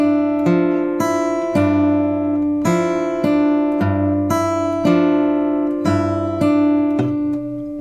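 An acoustic guitar plays a fingerpicked phrase from a song slowly, the thumb keeping a steady bass under repeated plucked treble notes, close and clear with no talking.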